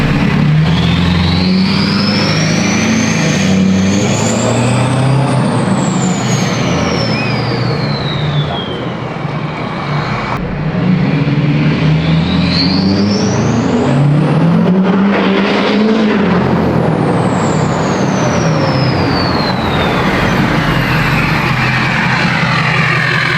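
A 6.7 Powerstroke diesel pickup fitted with a very loud aftermarket turbo accelerates hard past, the turbo spool whistling up in two long sweeping rises over the roaring engine, loud and close throughout.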